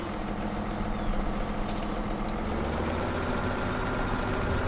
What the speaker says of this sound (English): That's not a bad tractor.